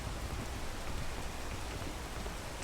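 Steady, dense rain falls in the video game Peak, a continuous close hiss of drops on surfaces with no voices.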